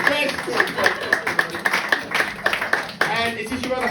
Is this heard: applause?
yes